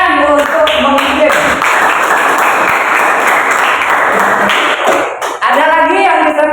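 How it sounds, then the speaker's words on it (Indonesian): Students in a classroom break into loud, dense applause for a classmate named Muhammad, a sustained burst of clapping lasting several seconds that tapers off, with voices talking over it at the start and end. "tepuk tangan untuk Muhammad"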